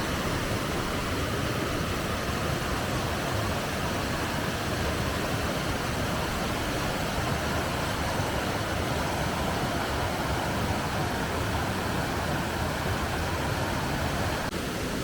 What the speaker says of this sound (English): check out this beautiful little cascading waterfall here